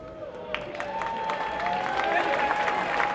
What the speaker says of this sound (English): How about a big round of applause to our newest Chief Petty Officers.